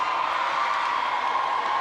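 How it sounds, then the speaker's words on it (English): Ice hockey fans in an arena cheer loudly during a Philippines versus Hong Kong, China world championship game, a sustained, even roar of crowd noise with no pauses. "because the crowd was so loud"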